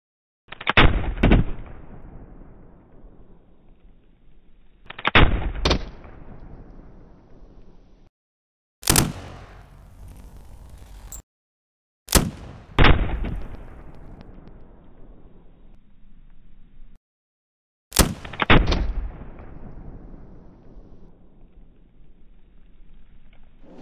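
Five loud, close gunshots fired a few seconds apart, each a sharp crack followed by a long, fading echo, with no talking between shots.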